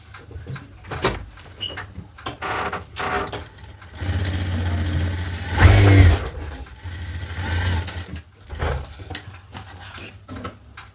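A sewing machine stitches tucks on a blouse in intermittent bursts of rapid mechanical whirring, the longest run in the middle growing louder with a low motor hum before pausing and resuming.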